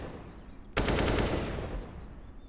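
Sustained automatic gunfire spam in a Counter-Strike match on the Ancient map, a loud, dense burst of rapid shots starting abruptly and rattling on for over a second before tapering into game ambience.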